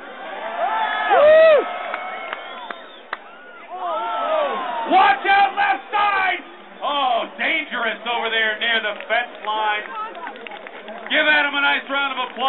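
Festival crowd at a beer festival keg toss whoops and cheers in bursts, loud shouting voices rising and falling, mixed with people talking.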